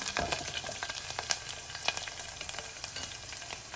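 Garlic sizzling and frying in oil in a pan while cooking a Telugu dal with tamarind leaves and raw mango, a steady close crackle with occasional stirring scrapes and no voices.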